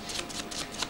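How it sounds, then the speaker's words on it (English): A deck of playing cards is shuffled at close range: four quick, soft riffling bursts in under a second, fairly quiet with no talking. "Now, I've shuffled the deck there in front of you"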